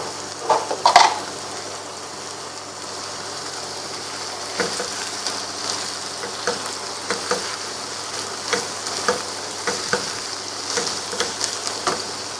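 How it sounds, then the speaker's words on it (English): Tomatoes frying in a pan for chicken qeema give a steady, close sizzle, with soft scraping stir strokes breaking through the hiss throughout. "I'm going to add my tomatoes to it."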